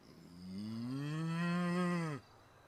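A man imitates a cow with one long, loud, drawn-out moo that swells and then cuts off sharply, alone in a quiet room.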